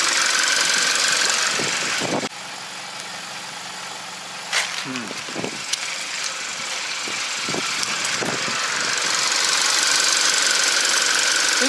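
A used Hyundai Grandeur HG runs with an abnormal, rhythmic engine knock over a steady idle drone, heard close up, while someone speaks intermittently over it.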